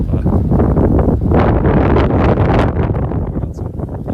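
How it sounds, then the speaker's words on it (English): Loud, constant wind buffeting and roaring across the microphone while an FPV drone is flown in London, steady and close throughout with no voices. "we got some big wind right now"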